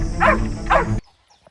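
A Presa Canario gives two loud, close, deep barks about half a second apart, then falls quiet.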